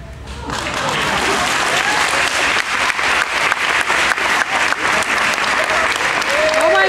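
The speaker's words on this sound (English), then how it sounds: "throw open the fabric and receive your well-deserved applause" Loud, sustained applause from a home audience after a children's magic trick finale, dense clapping that swells quickly and holds steady, with some voices mixed in.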